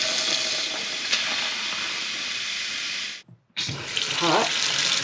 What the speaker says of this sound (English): we're going to go in and turn on all the faucets, hot and cold.